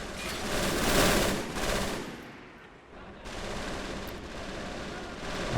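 Heavy machine gun fire and artillery pound a beach during a D-Day landing in Men of War: Assault Squad, a dense, continuous roar of rapid distant shots that dips briefly and then builds again, with no voices.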